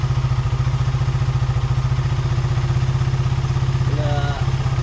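A small motorcycle with a kick starter runs steadily and close by, its engine chugging in a rapid, even rhythm throughout, with a brief higher tone near the end.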